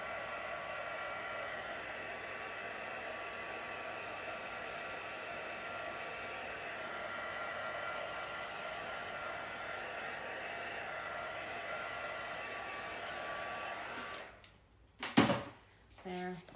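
A hair dryer blows steadily on freshly stamped ink, a constant even whoosh that runs on alone before cutting off, followed by a couple of brief clunks.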